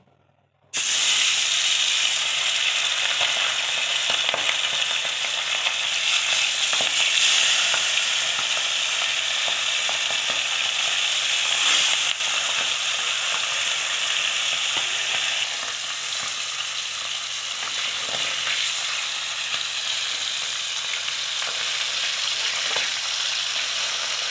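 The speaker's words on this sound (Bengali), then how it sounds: "এবারে মাছগুলো" Pabda fish frying in hot oil in a pan, prepared for a mustard and poppy seed paste curry: a loud, steady, close sizzle and crackle that starts abruptly and runs continuously, with no voices.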